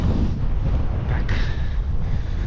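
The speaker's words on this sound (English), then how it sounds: "I've just said that and the wind has changed direction." Strong wind buffeting the microphone while cycling along a Nebraska highway, a heavy continuous low roar with gusty rumbling and no speech.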